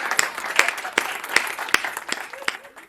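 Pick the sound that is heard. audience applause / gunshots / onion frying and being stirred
audience applause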